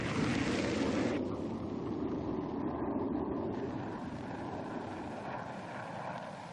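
A jet engine roars loud and continuous, with the hiss fading slightly partway through, consistent with a Vietnam War-era A-6 Intruder attack aircraft.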